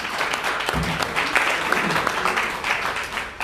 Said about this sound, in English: Can we give him an applause, please?